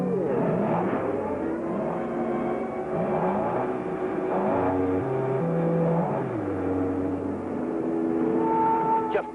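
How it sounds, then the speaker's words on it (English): An old jeep engine runs continuously with a rough, droning idle whose pitch rises and falls as it is revved, close and loud, with a brief sharp pop near the end. "Backfire just for Roy."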